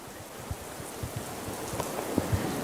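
Steady rain pours down in a city, a dense continuous hiss with scattered heavier drops tapping close by, and no voices over it.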